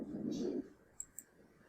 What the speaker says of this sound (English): then click on lock screen, then click on screen saver.